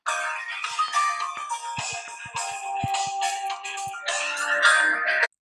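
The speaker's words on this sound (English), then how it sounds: "I know a lot of you guys who have used these phones before will remember some of these ringtones here." A Samsung Galaxy S series phone ringtone plays loud and close, a bright chiming melody of repeated tones with a brief pause near the middle before the tune resumes and cuts off sharply.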